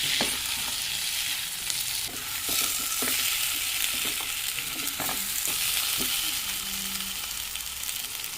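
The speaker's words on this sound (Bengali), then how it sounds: "আলু ভালো করে কষানো হয়ে গেছে" Boiled potatoes frying and being stirred in a pan while cooking egg curry, giving a steady, close sizzle with scattered scrapes and taps of a spoon throughout.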